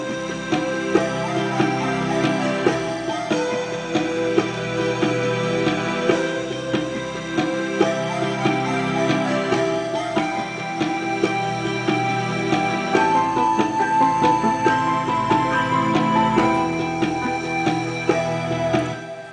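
Full chiptune game track, a lighthearted, peaceful forest theme with layered melody, chords and bass playing continuously at steady volume, no voices.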